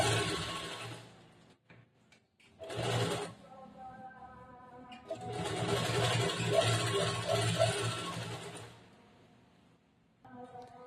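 A sewing machine stitching along the lining edge of a bordered blouse, running in two bursts: a short one early, then a longer steady whir of several seconds, separated by quiet pauses.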